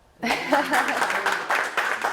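An audience at a graphic medicine conference breaks into applause after a brief silence, a loud sustained clatter of clapping hands with light laughter and voices mixed in.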